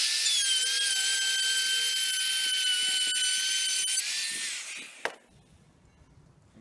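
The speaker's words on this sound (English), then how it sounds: "now we just take our router that sets on the edge right here and cuts our channel" A router cuts a channel along the edge of a particle board panel: a loud, steady high-pitched whine with grinding texture, then a sharp clack as the cut ends and the motor winds down to near silence.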